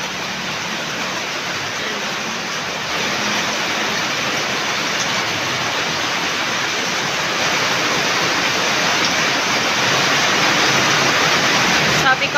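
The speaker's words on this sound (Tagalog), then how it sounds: "Sobrang lakas na po ng ulan." Heavy typhoon rain pours in a dense, steady roar that swells slightly louder midway and continues unbroken, with no voices over it.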